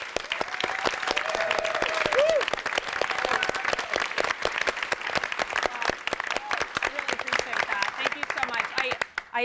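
Audience applause at a Y&R soap opera celebration panel, honoring a departing cast member: loud, continuous clapping from a seated crowd, sharp individual claps audible, a brief voice over it early on before the clapping thins at the end.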